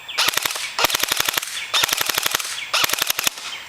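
An airsoft gun fires BBs in four quick bursts of about six to eight sharp, snappy shots each, close and loud, separated by brief pauses.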